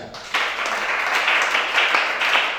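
A church congregation at a worship service breaks into applause, a sudden burst of many hands clapping that stays full and steady with small rises and dips throughout.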